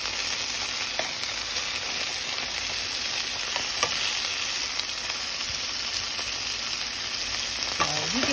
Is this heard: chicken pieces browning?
yes